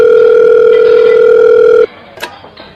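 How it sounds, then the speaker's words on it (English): A loud, steady telephone dial tone sounds up close for nearly two seconds, then cuts off, leaving a faint click and quiet room noise. "A telephone call."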